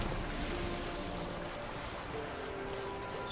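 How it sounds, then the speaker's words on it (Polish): Sea waves in the video game The Witcher 3, a faint broad wash of surf and wind noise with a faint tonal hum, steady and distant, without speech. "Coraz mocniejsze fale."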